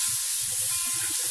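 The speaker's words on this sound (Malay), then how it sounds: "saya akan tumis bawang putih dulu" Garlic sautéing in a hot pan while cooking fried glass noodles (suhun goreng), a steady close sizzle with soft low stirring scrapes throughout and no talking.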